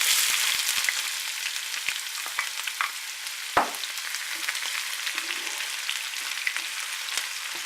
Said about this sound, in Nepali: प्याजलाई हामी केही बेर फ्राई गर्नेछौँ। यो हल्का ब्राउन हुन्जेलसम्म।